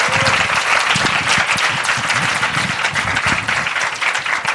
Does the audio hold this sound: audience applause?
yes